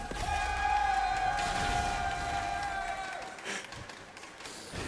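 A crowd at a League of Legends LCS EU esports match between Unicorns of Love and FC Schalke 04 lets out a sustained cheer and applause that gradually fades, with faint game tones underneath.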